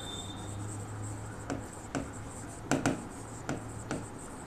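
Marker or chalk strokes on a board during an economics lecture, a steady scratchy rubbing with several sharper taps as letters are written, heard close against a constant low room hum.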